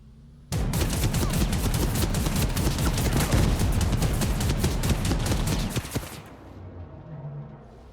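Rapid, dense burst of tank cannon fire from the video game Ramshackle, loud and close, hammering continuously for several seconds before cutting off abruptly into quieter background rumble.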